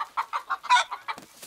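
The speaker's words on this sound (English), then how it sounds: "Don't worry, Mrs. Hen. We'll play on the other side of the barn." Cartoon hen in a barn clucking in a quick rhythmic series of about eight close, loud bursts with no talk over them.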